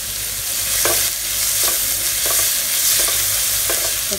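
Finely chopped carrots and onion stir-fry in refined oil for veg Manchurian, a loud broad sizzle with a handful of evenly spaced spatula scrapes; close, with no one talking.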